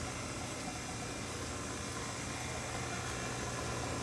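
Franklin Electric Inline 400 booster pump running, a steady low motor hum with a broad hiss from water flow, constant and unchanging throughout.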